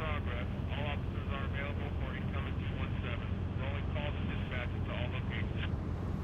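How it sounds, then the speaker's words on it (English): A helicopter in a video game shooter scene with SWAT police, heard as a steady, loud rotor chop pulsing continuously over dense game noise throughout. "Chopper."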